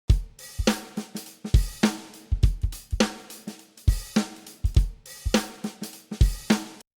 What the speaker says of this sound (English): it's just a loop of an acoustic drum set and it sounds like this